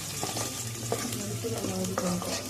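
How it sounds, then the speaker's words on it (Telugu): Onions fry in a pan with a steady close sizzle, and a utensil stirs and scrapes now and then through the sound. "ఆనియన్ లైట్గా ఫ్రై అవ్వాలి."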